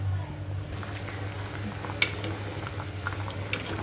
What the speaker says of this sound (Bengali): এখন এটা আমি কিছু সময় ফুটিয়ে নেব।